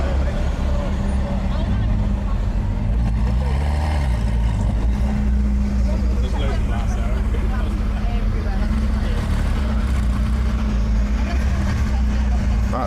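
A Ferrari California at a car meet, its engine a loud steady low rumble heard close by under crowd chatter and voices throughout.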